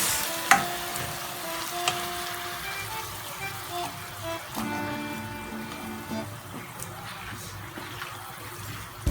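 Olives and tuna frying in a pan for puttanesca give a steady, moderate sizzle with occasional stirring clatter and scrapes, close up and without talking.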